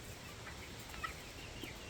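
A rooster guarding a flock of young chicks gives a short, quiet warning call, a couple of faint clucking notes over low background noise.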